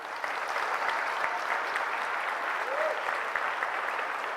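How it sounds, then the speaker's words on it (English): Steady, dense applause from a large crowd in a gym, holding at an even level throughout without a break. "give him a round of applause, please"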